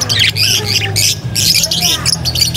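Parakeets at a pet bird market give loud, harsh repeated squawks in bursts, close by, with other birds chattering underneath.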